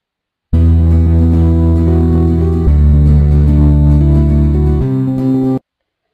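Music played back through Audacity with the RIAA equalization preset applied, loud and continuous with heavy boosted bass and subdued treble, sustained chord-like tones shifting a couple of times before stopping abruptly.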